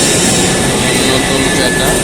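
Railway wheels are ground smooth by machinery in the Saidpur railway workshop, producing a loud, close, unbroken roaring whir with a harsh high edge.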